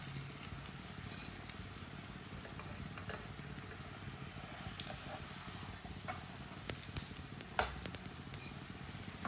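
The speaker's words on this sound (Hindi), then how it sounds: "अब इसे दोनों साइडों से ऐसे ही घुमाते फिराते पका लेंगे" A methi paratha cooks on a pan, turned over as it goes, with a soft, low sizzle and a few light scraping and tapping sounds near the end, no voices.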